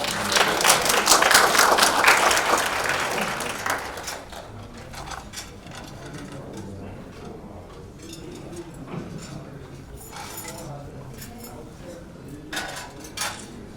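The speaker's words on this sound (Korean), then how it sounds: "큰 박수로 환영해 주시기 바랍니다" An audience at a government policy forum applauds to welcome a speaker. A dense burst of clapping fills the first few seconds, then fades to scattered claps, room shuffling and low murmuring.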